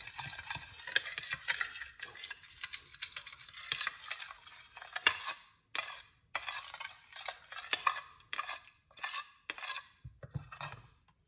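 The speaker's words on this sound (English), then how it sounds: "So you want to just mix out the honey inside of it." A spoon stirs honey into a cayenne pepper mixture, giving faint, close scraping and clinking strokes in an uneven rhythm with short pauses between bursts.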